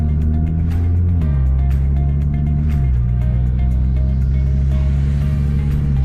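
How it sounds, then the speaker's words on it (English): Interior drone of a car running a COBB tune, a loud steady engine hum that drops in pitch at two gear shifts, with no voices during the run. "So we'll see how this drives."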